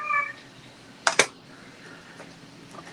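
A house cat gives a short, faint meow at the start, then two sharp clicks like keyboard keys stand out over a steady background hiss in an indoor room.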